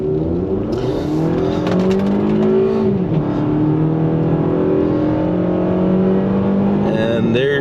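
A Toyota RAV4 TRD Off-Road in normal drive mode accelerating hard from a stop to sixty, its engine droning loud inside the cabin and rising through several upshifts.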